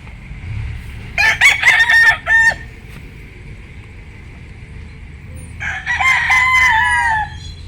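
A gamecock rooster crows twice nearby, each a loud, raspy cock-a-doodle-doo separated by a few seconds of quiet outdoor background.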